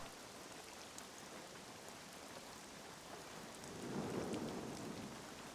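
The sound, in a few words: heavy rain and thunder in video game SCUM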